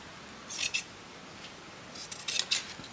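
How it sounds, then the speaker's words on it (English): Scissors snip through fabric while a label is trimmed away in a no-sew craft project, two short bursts of crisp close cutting separated by a pause, fairly quiet against a still background. "This I'm going to cut."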